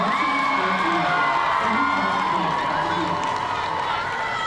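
High-school football crowd at a Wiregrass Ranch versus Manatee Hurricanes game, a continuous roar of cheering and shouting with scattered whoops and children's voices, loud and unbroken throughout.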